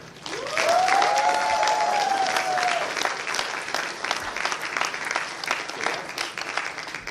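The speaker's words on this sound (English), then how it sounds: "We're applauding right in front of everybody." Audience applause fills a closing ceremony hall, a dense sustained clapping that swells early then gradually thins, with a brief rising tonal sweep and faint crowd murmur underneath.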